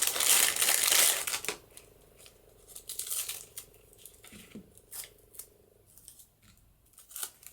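Close-up crinkling and rustling give way to a few crisp snips of fabric scissors cutting through ribbon, with quiet pauses between cuts.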